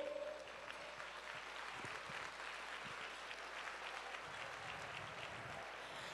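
An audience applauds steadily, a dense wash of clapping that holds at an even level throughout without voices over it.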